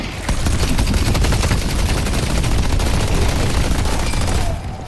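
Turret gunfire in the video game Deadlock: a dense, steady stream of rapid shots, loud and continuous for nearly five seconds, with no talking.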